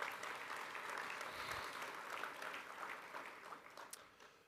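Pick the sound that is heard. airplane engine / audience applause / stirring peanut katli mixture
audience applause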